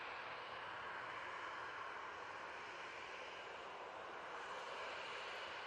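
A Ryanair airliner approaches to land at Manchester Airport, giving off a faint, steady, distant engine roar that holds level for several seconds, with no talking.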